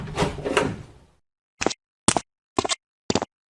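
A door creaking open, then four short, sharp knock-like thuds evenly spaced in silence, close and fairly loud.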